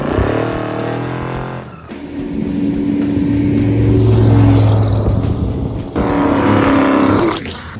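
A 1956 Chevy with LS power driving down historic Route 66, a loud close engine droning and revving in long pulls, with pitch rising and falling through gear changes.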